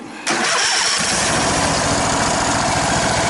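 A lawn mower engine, its carburetor freshly cleaned, catches after a brief pull and roars straight into a loud, steady, close-up run that continues without a break.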